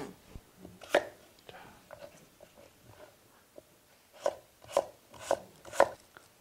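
A knife chops radish (Korean mu) into thin square pieces on a board, a few soft scattered cuts followed by a quicker run of four or five sharper chops, quiet and close, with faint voices in between.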